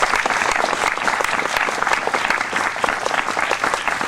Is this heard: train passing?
no